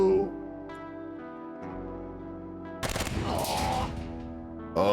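Rapid bursts of gunfire in the video game Quasimorph crack over a sustained musical drone, loud and close, with a heavy volley in the middle.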